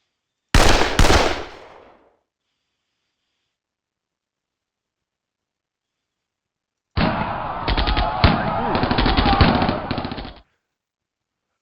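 Gunfire from an armor close assault in the wargame Panzer Campaigns Budapest 45: a loud sharp burst, silence, then a sustained rattling volley of automatic fire lasting several seconds.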